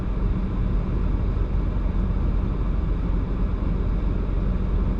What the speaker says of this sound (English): Oh, we have a traffic jam.